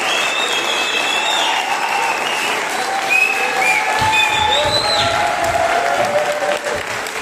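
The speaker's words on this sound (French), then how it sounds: "je vous demande de vous réserver un tonnerre d'applaudissements à Mohamed Beyoul, le chef cuisinier" Guests at a festival closing ceremony give a chef steady applause, a dense continuous roll of clapping from a crowd with a few raised voices and whistles over it.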